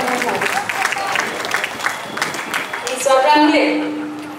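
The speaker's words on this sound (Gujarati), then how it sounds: "આપણા કંચનબેન માટે પણ જોરદાર તાળીઓ થઈ છે" An audience at a women's group gathering breaks into lively applause mixed with crowd noise, and the clapping tapers off as a voice starts speaking at the end.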